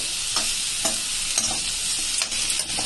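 Boiled cabbage being stirred through in a pan, with a steady sizzling hiss and soft periodic scraping strokes every half second or so, close and fairly loud, no voices.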